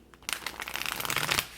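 A deck of tarot cards is shuffled by hand in one quick riffling burst of papery flicks, close and brief.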